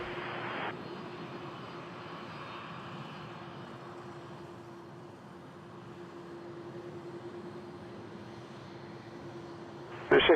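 A KLM Airbus A330 jet lines up on runway 23 at Toronto Pearson, its engines giving a steady distant roar with a constant hum throughout, and a brief louder burst at the very end.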